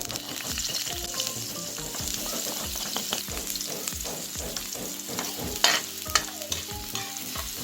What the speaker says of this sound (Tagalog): nilagyan ko na nga ito ng mantika para maigisa na nga yung mga bawang at sibuyas